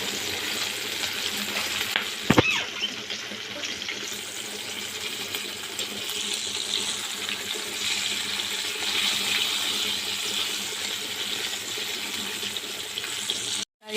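Chicken pieces frying in hot oil, a steady, dense hiss and crackle that carries on without a break, with a brief clatter near the start.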